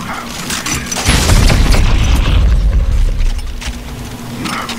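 A bomb in Dead Space 3 goes off after being shot, a loud deep boom with rumbling low-end blast lasting a couple of seconds before settling back into game ambience.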